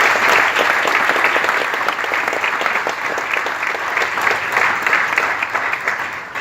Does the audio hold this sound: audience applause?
yes